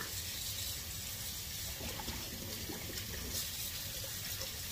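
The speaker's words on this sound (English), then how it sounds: "While this water draining out." Water drains steadily out of a pot or container in a home kitchen during cooking, a continuous rushing, splashing hiss that lasts the whole stretch at an even level, with no voices over it.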